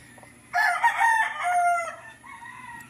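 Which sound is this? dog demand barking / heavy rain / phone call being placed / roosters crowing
roosters crowing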